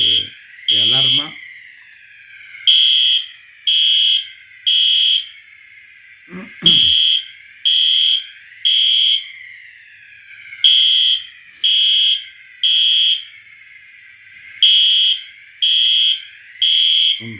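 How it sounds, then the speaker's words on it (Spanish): Electronic fire alarm sounding in a church service, repeated bursts of three loud shrill beeps separated by short pauses, cycling steadily throughout with brief low sounds between cycles. "acá como hay sonidos de alarma"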